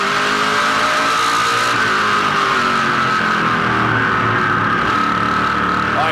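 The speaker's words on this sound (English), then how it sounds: "I hear John Gott picking that throttle up in the center of the corner" A race car engine at the 2010 A&W Cruisin' The Dub 300 holds a steady, loud drone and then builds as the driver picks up the throttle mid-corner, with faint tire squeal under it.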